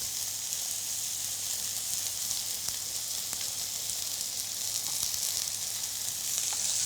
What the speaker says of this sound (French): Je vais faire poêler ma viande